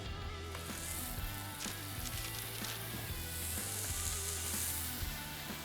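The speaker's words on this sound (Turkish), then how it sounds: "Bu arada tava ısındı. Artık köfteleri tavaya alma zamanı." Köfte meatballs for a wet-style street burger sizzle steadily in a hot pan, a constant close frying hiss with occasional faint pops and no talk.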